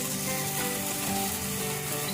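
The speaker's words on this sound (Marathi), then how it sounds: "हे थालीपीठ आपल्याला लो फ्लेमवरच भाजून घ्यायचं आहे" Sabudana thalipeeth batter cooking in a pan over a low flame gives a dense, continuous frying sizzle, close and steady throughout with no pauses.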